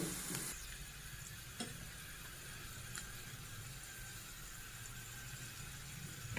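Egg with a little turmeric fries in oil with rice, a quiet, steady sizzle running throughout with a couple of faint stirring clicks.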